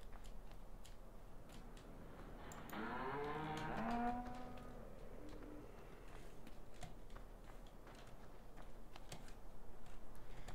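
A cow in the Farming Simulator 15 video game gives one drawn-out moo at moderate distance, set against steady farm ambience and a continual clicking of keys.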